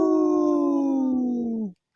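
Two people imitate a wolf howl together in a long, steady, harmonic tone that falls slightly in pitch before cutting off, loud and close.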